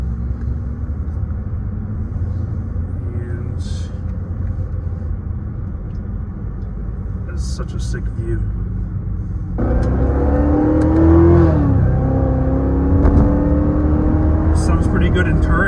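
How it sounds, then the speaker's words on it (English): A McLaren 675LT supercar in touring mode rumbles low and close while cruising with other cars, then its engine swells louder and revs, with people talking over the drone. "Sounds pretty good in touring mode."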